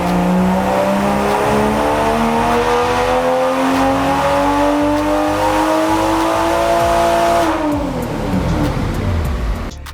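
A lightly modified A90 Toyota Supra with an EcuTek tune screams through a dyno pull, engine pitch climbing steadily for about seven seconds before a sharp drop as the throttle closes, loud and close with no talking.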